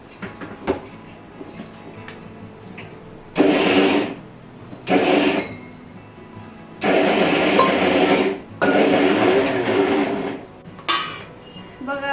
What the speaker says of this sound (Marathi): आता मी ती डाळ मिक्सरमध्ये वाटून घेणार आहे